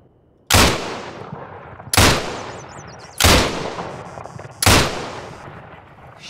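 Four loud, separate gunshot bursts in a video game shooter, each striking sharply and then decaying into a long echoing tail, spaced roughly a second and a half apart.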